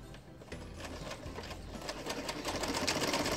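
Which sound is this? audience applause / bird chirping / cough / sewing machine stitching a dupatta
sewing machine stitching a dupatta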